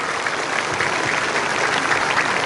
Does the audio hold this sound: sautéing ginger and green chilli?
no